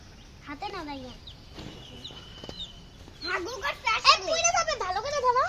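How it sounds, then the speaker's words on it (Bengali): Chickens cluck softly near excited children whose chatter and squeals dominate, especially in the louder second half. "রায়ান হাত দিয়ে ধরো মুরগিটা।"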